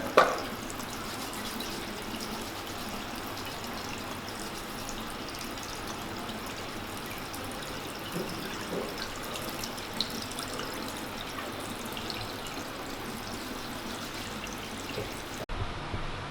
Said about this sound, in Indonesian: setelah cuci tangan tadi